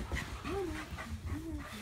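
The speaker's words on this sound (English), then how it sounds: "we got the classic doggos" A dog pants and whimpers close by in quick, breathy bursts with short rising whines in between.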